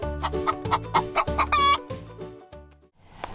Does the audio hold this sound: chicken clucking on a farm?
yes